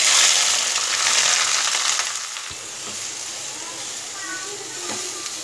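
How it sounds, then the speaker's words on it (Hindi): Onions frying in hot oil in a cooking pot, with a loud steady sizzle at the start that settles into a quieter continuous crackle, and a few faint stirring scrapes. "तेल गर्म हो चुका है इसमें हम प्याज डाल देते हैं"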